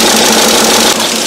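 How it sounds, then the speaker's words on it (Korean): A 2009 SsangYong Rexton engine runs with its engine cover removed, a loud, steady mechanical whir and clatter heard up close for about a second. "여기서 소리를 들어보면 엔진 소음이 조용해졌습니다."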